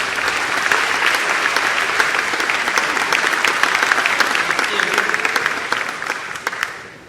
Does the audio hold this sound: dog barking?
no